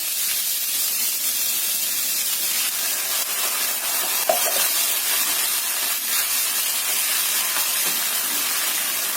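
Green beans cooking in about 100 ml of water over medium heat give off a loud, steady steaming hiss and sizzle that runs unbroken throughout.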